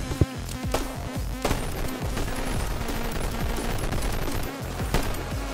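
Large LMG with bipod and big magazine in Bonelab, firing sustained rapid bursts of loud close gunfire with a dense, continuous rattle and occasional heavier booms; no talk.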